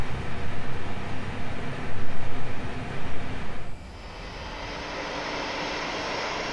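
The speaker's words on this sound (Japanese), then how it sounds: "エンジンも始動させていきましょう" A jet airliner engine spooling up in a flight simulator game for a Jetstar Tokyo–Nagasaki flight, a loud steady roar with pulsing rumble that drops away, then settles into a smoother continuous whine, with no talking.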